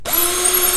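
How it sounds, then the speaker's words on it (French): A cordless power screwdriver spins up and drives a screw into a wooden board for a bike rack, a loud close whine with a steady pitch held for under a second. "Donc avec une visseuse, c'est quand même plus pratique. Et une fois que la vis a légèrement dépassé, vous allez venir la monter sur la planche."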